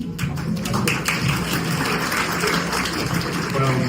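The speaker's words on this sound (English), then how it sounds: "Well deserved round of applause" Steady applause from an audience at a talk about doctors working in Ireland, dense claps filling the whole stretch at an even level, with faint voices mixed underneath.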